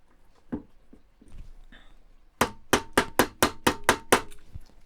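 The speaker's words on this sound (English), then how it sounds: "Had to use my hammer there just to get that in" A hammer taps a small cap into the middle of a model Willys Jeep, first a few scattered light knocks, then about nine sharp, evenly spaced strikes close up.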